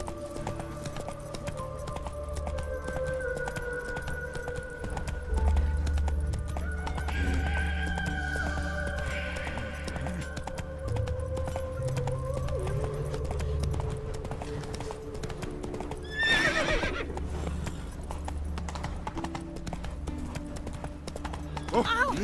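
Horse hooves clip-clop steadily in The Witcher 3 with an occasional whinny, running under game music and character dialogue.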